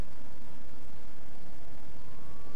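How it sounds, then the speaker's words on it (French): Police sirens wailing far off outside in the video game Manhunt 2, a faint rising and falling tone hanging over a low rumbling ambient background throughout. "on entend des sirènes de police au loin"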